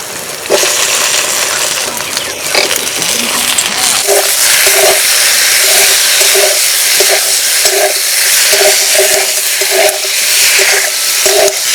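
Fried potatoes stirred in hot spices in a pan, a loud, dense sizzle with a repeated rhythmic clink of a spatula against the pan, close and without any voices.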